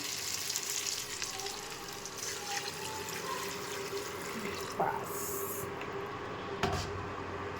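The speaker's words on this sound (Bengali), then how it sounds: "এর মধ্যে এবার জল ঢেলে দেবো" Eggplant and potato pieces frying in a pan give off a steady, close sizzle. Water poured in adds a brief splashy surge, and a couple of sharper clinks and bursts rise above the hiss.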